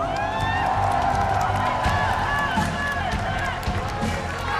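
A big crowd at a StarCraft StarLeague 2016 final erupts in loud, continuous applause and cheering for champion Kang Min-soo, dense clapping with whoops under an excited announcer's voice.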